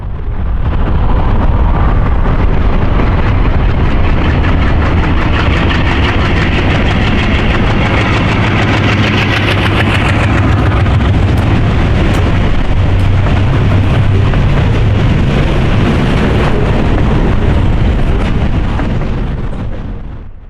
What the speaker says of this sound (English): The two ALCOs were working hard, smoking up the skies with some encouragement from the engineer's throttle.